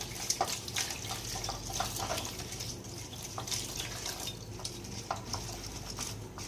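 Water being poured a little at a time over melon seeds in a rice strainer, a faint continuous trickle and splash with small irregular drips and stirring clicks, heard alone in a quiet kitchen.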